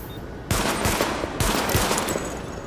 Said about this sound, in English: Okay, sidearm. Open fire at the highlighted targets.